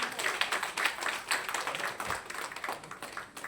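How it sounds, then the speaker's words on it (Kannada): At a teacher award ceremony, an audience claps for the award recipients, a lively, uneven patter of many hands that is moderately loud and continues for a few seconds. "ಜೋರಾಗಿ ಚಪ್ಪಾಳೆ ತಟ್ಟಿ ಪ್ಲೀಸ್."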